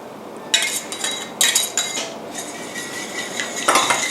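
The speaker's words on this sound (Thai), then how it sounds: "แล้วก็คนให้เข้ากันค่ะ" Egg yolks being stirred into warm melted cocoa powder and sugar for cocoa egg tarts, with a utensil scraping and clinking against a bowl in a few separate bursts, close and fairly loud, with no talking.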